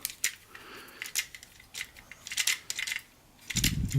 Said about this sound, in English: it seems like, in his legs. Very, very light ratchets.